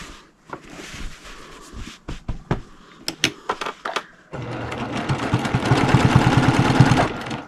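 A regular home sewing machine doing free motion quilting whirs in short, stop-start stitching bursts with clicks and taps between them, then settles into a louder, steady run of rapid stitching near the end.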